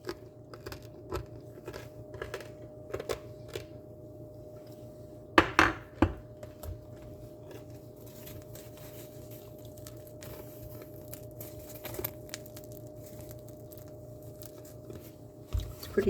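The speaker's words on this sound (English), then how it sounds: "Can you hear this crunch?" Crust of a dense, freshly baked artisan loaf, still warm inside, gives a few sharp crunching bites near and close up, clustered around the middle, over a steady low background hum with faint clinks.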